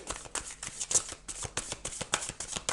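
Tarot cards being shuffled by hand, a quick run of soft riffling slaps and flutters repeating in an uneven rhythm, close and fairly quiet with no talk.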